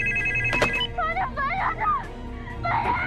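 A telephone rings in a film scene, giving a warbling electronic ringtone in short repeated bursts over background noise and other sounds.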